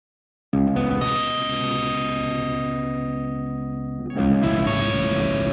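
Loud, sustained distorted chord from an electric guitar through a Friedman handwired 100-watt amp and a Marshall 4x12 with Greenbacks, with a second delay adding echo. The chord rings for several seconds and is then restruck.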